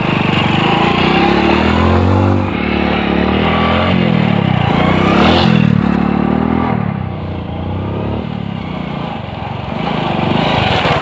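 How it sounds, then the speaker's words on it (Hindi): A motorbike engine runs loud and close, a steady rough drone that rises and dips slightly as it rides along a hilly road. "तो चलिए अब सीधा बाइक स्टार्ट करते हैं और घर की ओर निकलते हैं।"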